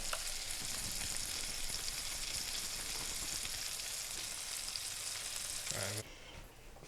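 Meatballs frying in a pan give off a steady, dense sizzle that runs loud and close for about six seconds, then drops to a quieter hiss near the end.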